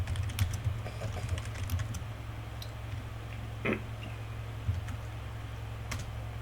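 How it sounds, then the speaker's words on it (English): Computer keyboard typing at a desk, scattered quick key clicks over a steady low hum, faint and close, with no talking. "So let me just put the cursor back there and type that in."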